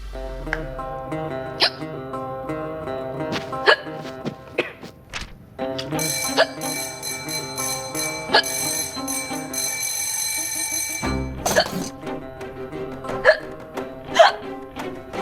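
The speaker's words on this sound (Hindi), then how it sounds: "आपको इतनी हिचकी क्यों आ रही है?" Repeated hiccups from a woman in a comedy sketch, sharp short bursts recurring every second or two, mixed with bell-like chimes and a louder sustained tone near the middle.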